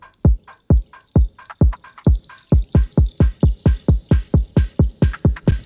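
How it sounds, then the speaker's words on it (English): A water trickle texture with grain delay in a UK garage track forms a steady run of sharp, rhythmic dripping plinks that quicken and repeat evenly, loud and close with no voices. "Water trickle texture, doing this grain delay thing again."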